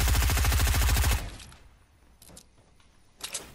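Rapid automatic gunfire in Fortnite, a loud close burst of evenly spaced shots that cuts off after about a second, followed by a few faint distant pops.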